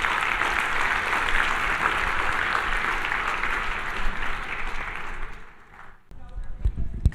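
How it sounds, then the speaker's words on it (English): Audience applause at the 2024 FAST Global Summit on Angelman Syndrome, a dense, steady clapping from a large crowd that holds for about five seconds, then fades into quieter room sounds and a few scattered claps. "So you actually owe yourselves a round of applause for making this work possible."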